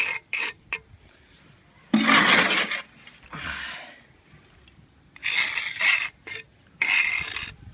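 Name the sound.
brick laying trowel filling sand into paving edges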